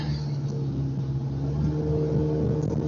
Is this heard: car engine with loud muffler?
yes